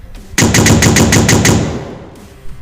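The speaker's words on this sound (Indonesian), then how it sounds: "Suara tembakan senapan mesin memenuhi tempat itu." A sharp burst of rapid machine gun fire, about eight quick rounds in a steady rhythm, loud and close, then fading echoes and silence.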